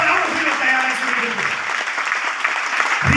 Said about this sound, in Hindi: मैं चाहूंगा एक जबरदस्त ताली, जबरदस्त ताली।